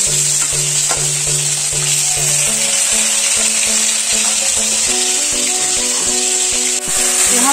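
Steady, dense sizzling of shredded cabbage frying in a hot pan for a Bengali-style dish, continuous and fairly loud, with faint tonal background sounds and no talking.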